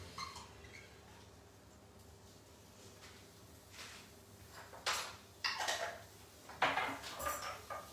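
A spoon scrapes and clinks against a pot while tamarind paste is stirred into a vegan walnut curry, faint and quiet at first, then sharper close knocks and scrapes toward the end, without speech.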